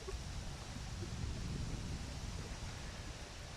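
Wind blowing outdoors in a city centre in Germany, a steady broadband rush buffeting the microphone throughout, close and continuous, with no voices.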